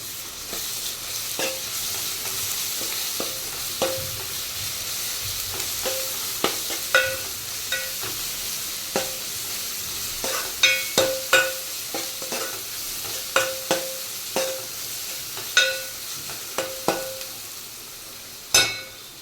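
Gongura leaves with ginger paste simmering and sizzling in a pan, with repeated spoon scrapes and clacks against the pan's side, growing more frequent and louder toward the end, close by and with no voices.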